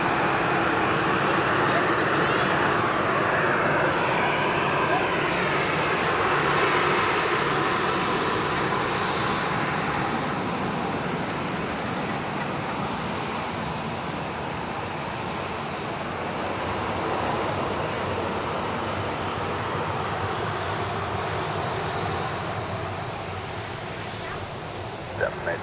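ATR turboprop aircraft at Dublin Airport, a sustained broadband engine roar with a whining tone that sweeps early on, fairly close and steady, easing slightly toward the end.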